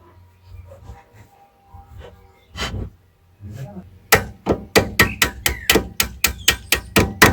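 A few scattered knocks and clunks, then a rapid run of sharp metallic hammer blows in an even rhythm, close and loud, while fitting a new nut on a car's front suspension.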